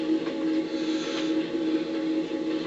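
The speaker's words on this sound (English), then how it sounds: "blow your diesel horn" A model train's diesel horn blows in one long, continuous loud tone with steady harmonics, heard close and alone without talk.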